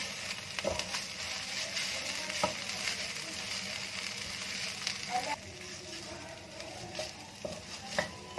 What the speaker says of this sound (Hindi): ये अच्छे से मिक्स हो गया है और अच्छे से ब्राउन भी हो गया, ऑयल में फ्राई हो गया है